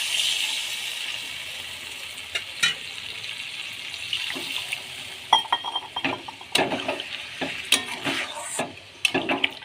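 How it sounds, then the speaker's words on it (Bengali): Water is poured into a pan of potatoes and pointed gourd being fried for an egg curry, setting off a soft hiss and sizzle broken by scattered clinks and stirring scrapes, moderately close and fairly quiet. "এবার জল দিয়ে দেবো আমি।"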